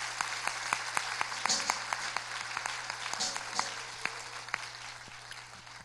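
A church congregation at a 24th anniversary service gives a round of applause. The claps are fairly sparse and rhythmic, moderately distant, over a low steady hum.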